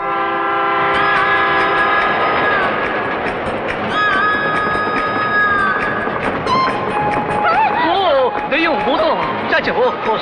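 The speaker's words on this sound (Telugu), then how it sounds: "ఇంకో ట్రైన్ వచ്చే టైం అయింది" A train rumbles along the rails as its horn blares in long sustained tones, loud and close, while voices talk over the passing noise.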